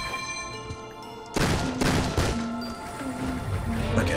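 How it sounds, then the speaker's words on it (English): Shotgun blasts from the RWBY Grimm Eclipse video game hit as a sudden loud burst, followed by several more booming shots over a layer of game music. "Oh my god, the shotgun blast"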